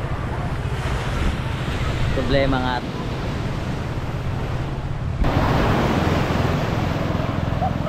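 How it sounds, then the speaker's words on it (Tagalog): Overflowing river water at Pundaquit rushing toward the sea, a loud, constant roar of water and surf mixed with heavy wind buffeting the microphone, while people speak briefly over it. "Umaapaw na masyado kasi yung ilog."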